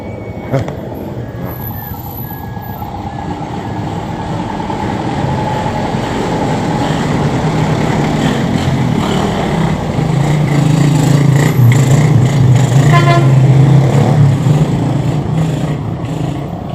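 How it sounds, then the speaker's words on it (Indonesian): A big motorcycle rumbles along a hilltop village road near Mutisari Dam in Central Java, Indonesia, its engine building steadily louder over more than ten seconds as it approaches and passes close by. "Hati-hati, minggir dulu, ada motor gede"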